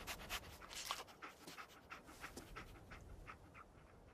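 Dogmeat, the dog companion in Fallout 4, panting steadily and rhythmically close by through the whole stretch, at moderate loudness and with no talking over it.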